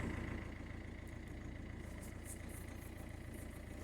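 A Ford C-Max suffering fuel starvation idles with a slight misfire, giving a steady low, rumbling drone with a fine pulsing texture and faint intermittent ticking above it, heard fairly quietly throughout.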